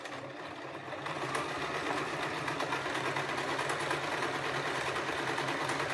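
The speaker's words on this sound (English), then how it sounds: "I always back stitch across every end of this construction" A domestic sewing machine stitching and reverse stitching the seams of a fabric shopping bag, running as a steady close whirring hum that picks up after the first second and continues unbroken.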